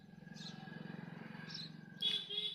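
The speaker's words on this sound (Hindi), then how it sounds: "इनकी वीडियो में चिड़ियों की ज़्यादा आवाज़ सुनाई पड़ती है" Birds chirp in trees around a house, a few bright high calls heard over a pulsing low hum, likely from a sewing machine, fairly faint overall.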